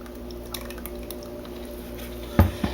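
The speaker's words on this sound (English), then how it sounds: "So let's go ahead and get this poured off." Cold process soap batter being poured, a quiet steady liquid flow under low background hum, ending with two louder wet splats near the end.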